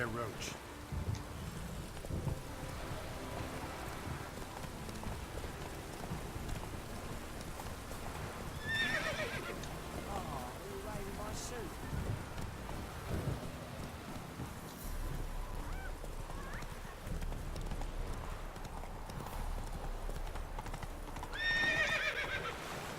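Geralt's horse Roach from The Witcher 3 clip-clops along steadily with neighs and whinnies rising over the hoofbeats, set against game ambience with geese honking and a voice speaking at times.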